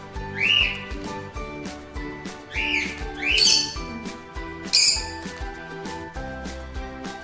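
Cockatiels and lovebirds in cages arranged side by side, giving out several sharp squawks and whistling calls in short bursts against a continuous busy background.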